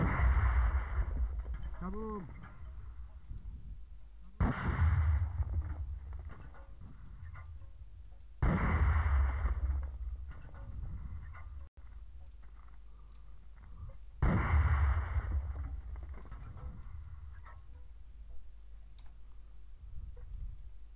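Bomb explosions in Minecraft with mods, four heavy booming blasts at regular intervals of about five seconds, each followed by a fading rumble over quiet ticking in between.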